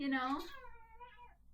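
One drawn-out cat meow, rising then trailing off into a thin wavering tone, fairly faint and close.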